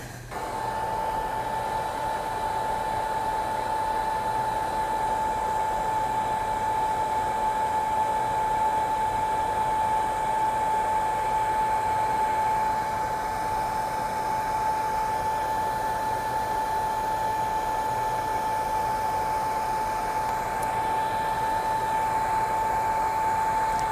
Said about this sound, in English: And then I'm going to help it along with a heat gun.